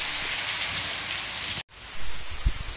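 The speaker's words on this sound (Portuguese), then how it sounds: "Mais um vídeo de chuva no Nordeste" Rain falls steadily in northeastern Brazil, a dense, even hiss that stops for a brief instant and then resumes slightly louder with a soft low thump near the end.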